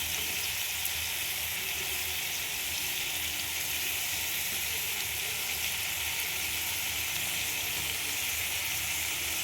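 Onions and pumpkin frying in oil in a pan, a continuous dense sizzle with a steady hiss, close up, with no voices.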